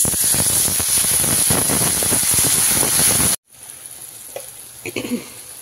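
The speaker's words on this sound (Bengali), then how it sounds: "এবার আমি জলটা দিয়ে দেবো।" Water hits a pan of frying spiced radish curry: a loud, steady hiss of sizzling fills the first three seconds, then cuts off abruptly into quiet bubbling with a few faint clinks.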